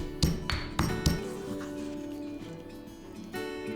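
Ginger being coarsely pounded, likely with a mortar and pestle, giving three or four sharp ringing strikes close by, then a fading resonance, and one more strike near the end.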